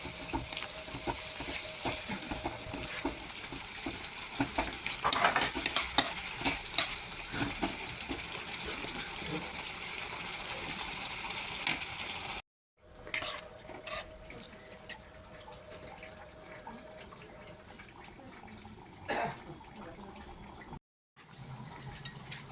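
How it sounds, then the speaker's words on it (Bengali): Spiced fish curry gravy bubbling and simmering in a pan, a soft continuous sizzle with occasional stirring clinks, briefly cutting out twice. "এবারে আমার এটা ফুটে এসছে"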